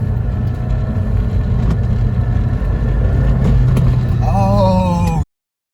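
A Honda S2000 with a JDM F20C engine and AP2 transmission swap accelerates hard, a loud, steady engine roar climbing in pitch inside the cabin before cutting off abruptly near the end.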